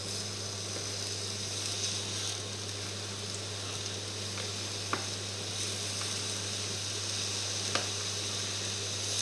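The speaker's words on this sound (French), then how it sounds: "je dispose mes pommes qu'on va faire dorer" Apple slices browning in a hot pan for apple boudin give off a steady, soft sizzle, fairly quiet and continuous, broken by a couple of sharp little pops.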